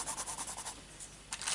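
Pastel coloured pencil scratches across paper in a rhythmic series of quick strokes, close and clear, pausing briefly before a final flurry.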